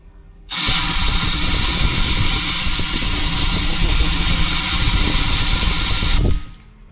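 A compressed air gun blasts a steady, loud hiss across a turbo plenum for about six seconds, starting and stopping abruptly, with no talk over it.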